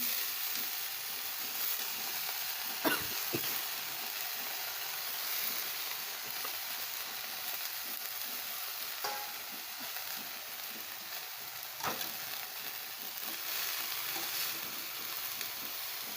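Shapu (dill) greens frying and being stirred in a hot pan for a spicy Maharashtrian vegetable dish, giving a steady soft sizzle throughout with a few sharp scraping clicks of the spoon, close and alone with no talk.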